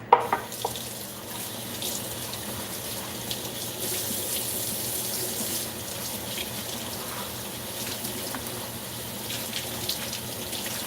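A kitchen tap runs steadily into a sink during washing up, a constant close splash and hiss with a few clinks of dishes.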